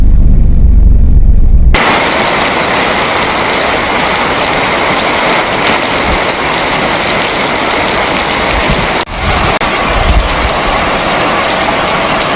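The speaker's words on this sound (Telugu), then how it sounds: "ఉమ్మడి వరంగల్ జిల్లాలో భారీగా వర్షం కురుస్తుంది." Heavy rain pours steadily in Warangal district, a loud, dense, continuous hiss across the whole stretch, close and unbroken, with no voices.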